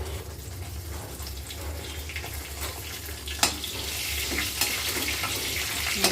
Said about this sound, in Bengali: তেলটা গরম হয়ে গেছে, এখন দিয়ে দেবো 5 ফোড়ন, শুকনো লঙ্কা,